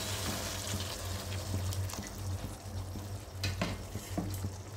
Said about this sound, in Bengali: আমি বরাবরের ন্যায় এই মশলা ধোয়া জলটা দিচ্ছি।